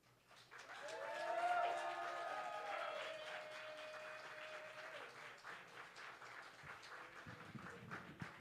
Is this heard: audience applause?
yes